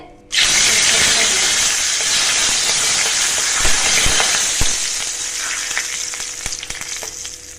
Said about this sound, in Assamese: এয়া তেল গৰম হৈছে।